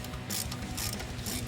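Quick bursts of ratchet clicking as a bolt is driven into the inner primary of a 2016 Harley Davidson 103 Twin Cam FLHTCU, about three short close rattling strokes, no talk.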